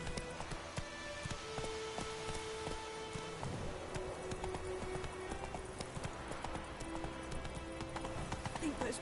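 Horse hooves clip-clop steadily through the Witcher 3 game world, a mid-distance rhythmic trot over light rain and ambient game sound, with a voice talking over it.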